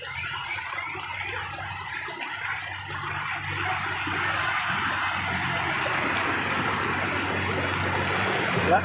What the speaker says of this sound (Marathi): लाटा आल्या लाटा बघा लाटांचं पाणी किती उंच गेला बघा